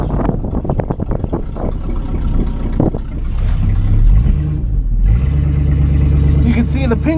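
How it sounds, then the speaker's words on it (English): Loud truck engine running with its exhaust cut off, a deep steady low rumble that swells and holds throughout, with someone talking over it early on. "Oh yeah, this truck is nice and loud."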